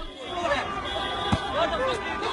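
An angry crowd after a van attack on pedestrians at Finsbury Park: many agitated voices chatter and shout at once, a dense, close hubbub with no single voice standing out.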